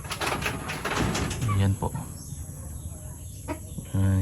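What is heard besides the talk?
chickens at a farm house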